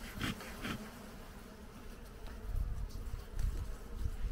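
Honeybees, including a queen and drones, buzzing at a beehive in an apiary: a soft, continuous insect drone with a few louder passes close by.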